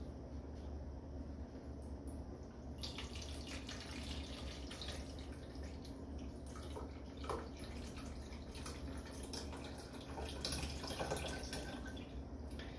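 Steady running water pours and splashes into a tank, a continuous rushing wash with faint drips, growing slightly fuller toward the end.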